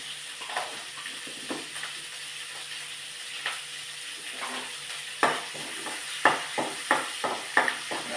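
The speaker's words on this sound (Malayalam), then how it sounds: "ഇനി ഞാൻ ആ വറുത്ത എണ്ണയിലേക്ക് തന്നെ കടുകിടുകയാണേ" Mustard seeds sputtering and popping in hot sesame oil left from frying fish for pickle, a steady sizzle broken by sharp crackles that grow denser and louder toward the end, close up with no talk.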